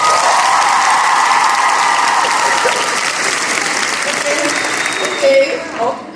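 Steady, loud applause from a live talk-evening audience carries on for several seconds, thinning out toward the end as a voice cuts in.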